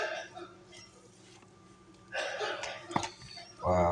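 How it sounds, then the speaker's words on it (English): A man coughs outdoors in New York, distant and muffled, with a short harsh burst near the end over faint room background. "I don't know if you can hear that guy coughing outside"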